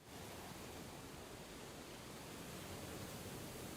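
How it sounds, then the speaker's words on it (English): Steady roaring wash of crashing waves and storm wind from the game Limbus Company, a dense unbroken broadband rumble holding level throughout with no talk. "I heard vicious sounds of crashing waves and roars of an all-crushing storm"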